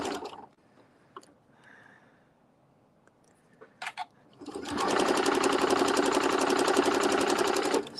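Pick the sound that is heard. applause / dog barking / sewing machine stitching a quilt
sewing machine stitching a quilt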